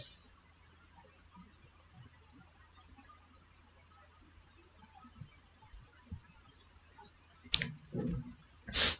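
A few sharp computer mouse clicks on a download link land near the end, close and crisp after a stretch of faint room hiss and soft incidental ticks.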